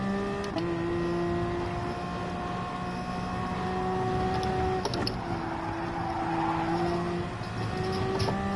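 A race car in the Gran Turismo video game holds a steady, whining engine note that steps in pitch with each gear shift, at a moderate level and with no talking.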